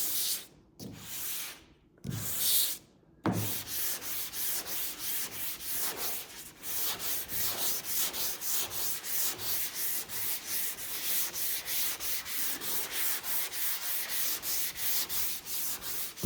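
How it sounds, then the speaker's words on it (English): Light hand sanding of primer on a 1976 Trans Am body. A few separate strokes start things off, then fast, even back-and-forth rubbing continues up close with no talking. "I'm going nice and lightly because I don't want to put any deep gouges or any deep sanding grooves."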